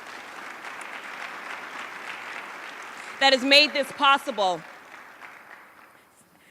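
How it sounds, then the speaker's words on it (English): Sustained applause from an audience at a graduation celebration for public housing high school graduates, honoring their family members, a steady wash of clapping that a voice speaks over midway before it fades out. "we just got to give a round of applause to all the family members"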